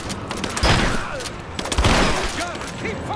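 Gunfire in Rise of the Tomb Raider, loud and dense, with rapid overlapping shots and bursts crackling close by and a few booming hits throughout.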